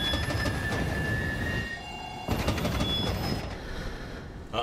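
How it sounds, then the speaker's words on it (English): Train rumble in the Borderlands 3 video game, a loud, continuous rolling roar of rail cars with squealing wheels and clanking, sustained throughout with a brief dip midway. "Yeah, chase down that train."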